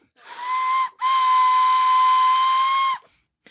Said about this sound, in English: we had to buy one of these convor whistles just so we could say, hey, look, Archex made